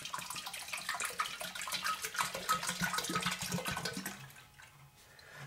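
Brake fluid poured from a bottle into a Motive power brake bleeder, a close, gurgling liquid stream that tails off into quieter drips near the end.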